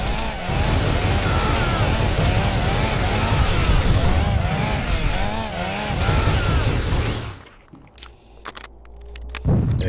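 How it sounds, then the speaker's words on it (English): An enemy Space Marine's chainsaw in the Warhammer 40k game Fire Warrior, a loud rasping motor with wavering revving pitch that runs continuously for several seconds, then cuts out abruptly near the end, leaving brief scattered noises. "Oh, I can hear his chainsaw."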